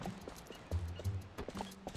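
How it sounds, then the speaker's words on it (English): Horse hooves clip-clop in the Zelda: Twilight Princess game, a run of steady, fairly loud footfalls with low thuds and game sound around them. "Alright, let's get on the horse."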